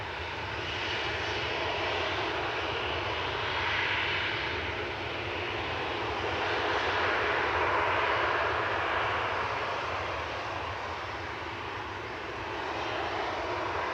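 Airliner engines roar continuously at Manchester Airport, a steady, broad rumble and hiss that swells and eases slightly over fourteen seconds, heard from a distance with no voices.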